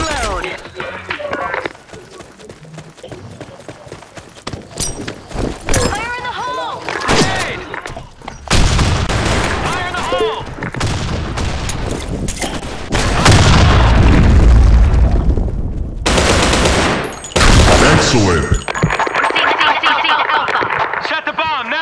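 Rapid gunfire and booming explosions from a tactical shooter game fill the mix, with dense bursts of shots, heavy thuds and announcer-style voices over the action.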